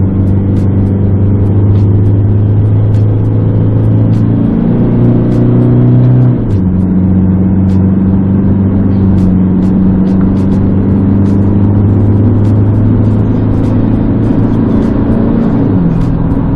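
An automatic Isuzu D-Max engine revs hard in second gear while climbing a hill in Sabah, a loud steady mid-pitched drone with a couple of clear pitch drops and rises as revs shift.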